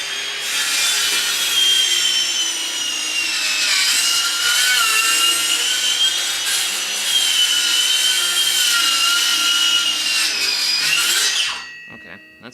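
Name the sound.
power saw bogging down while cutting cedar wood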